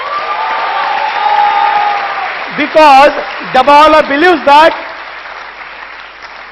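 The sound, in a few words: audience applause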